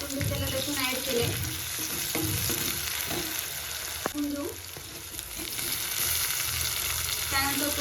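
Onion and ground garlic fry in a pan for besan pithal, a steady sizzle with scraping stirs and a light clink, while occasional voices murmur in the background.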